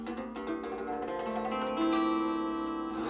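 A rich chord rings out on a 24-string E Nightingale with sympathetic strings, the notes blooming and sustaining with a shimmering resonance that swells slightly toward the end, played alone with no voices.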